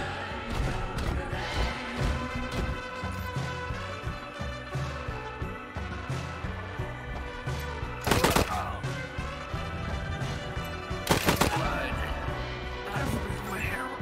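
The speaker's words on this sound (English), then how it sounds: "Come on, Tyrion, shoot him." Gunfire in the video game Wasteland 3, a couple of sharp loud bursts against dense game music and effects, with a voice talking over the action.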